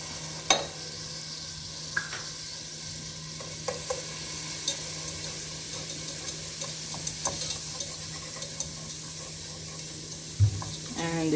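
Garlic sizzles in a pan as the start of an alfredo sauce, giving a steady close hiss of frying. Light clicks and scrapes of stirring sound now and then, with no voices.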